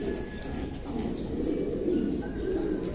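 Show king pigeons, a newly paired adult male and female, cooing softly in low repeated murmurs with faint chirps over a steady background hum.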